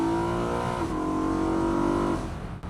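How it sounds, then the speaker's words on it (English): A BMW V8 M3 convertible gives a loud, close intake roar as it pulls hard, holding a steady rising tone before easing off near the end, with no talking. "You can hear that intake ripping."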